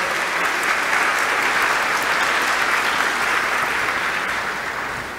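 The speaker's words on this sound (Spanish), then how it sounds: "Fuerte aplauso." A graduation ceremony audience applauding after a science award is announced, loud, dense and sustained clapping from a large crowd that tapers off slightly at the end.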